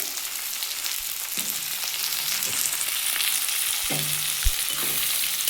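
Onions and tomatoes frying in oil for a fish curry, with a dense, even sizzle close by and occasional low knocks and scrapes of a spatula moving them around.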